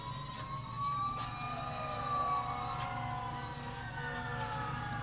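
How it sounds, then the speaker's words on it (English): Wailing sirens in the distance, several overlapping tones rising and falling steadily over a low background hum, no voices. "Sirens in the distance."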